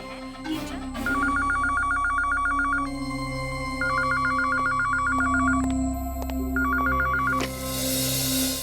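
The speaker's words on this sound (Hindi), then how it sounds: "सर आपका फोन।" A telephone in a police office rings in repeated bursts of trilling electronic bell tones, loud and close, spread across several seconds with faint background noise.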